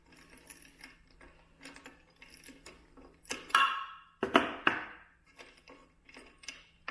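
A glued nut is loosened with a ratcheting tool while assembling a Lumiboard scooter, quick mechanical clicks in short bursts, then a few louder sharp metallic snaps and rattles close by.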